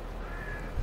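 Crows cawing in Farming Simulator 22 on the Calm Lands farm map: one short, faint caw over a steady low ambient background.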